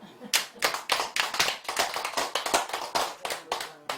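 An audience at a Buddhist full-moon dharma service at a temple claps briskly, many hands beating in a quick, fairly regular rhythm for a few seconds, close and moderately loud.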